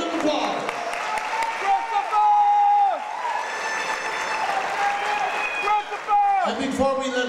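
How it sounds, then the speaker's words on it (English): A crowd applauds contestants at a Mr Continental 2009 pageant introduction, sustained clapping under music with a voice heard briefly over it. "Let's give them all a wonderful round of applause."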